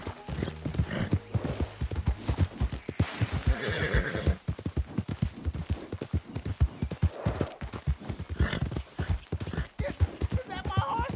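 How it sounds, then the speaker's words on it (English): Horse hooves clip-clop steadily throughout, with whinnies and neighs rising over them, close and loud, while someone speaks soothingly over the animal. "Is that my horse?"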